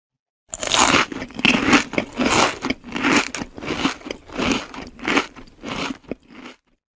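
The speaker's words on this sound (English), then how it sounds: "crunch of people eating chips." Close, steady crunching of someone chewing crisp chips, a rapid series of crackly bites for several seconds, with no voices.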